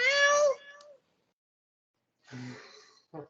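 A cat gives a loud, clear meow, followed after a pause by two shorter, softer meows nearby.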